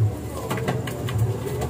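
A pigeon coos close by in a repeated low throaty rhythm, several soft rolling calls over quiet background.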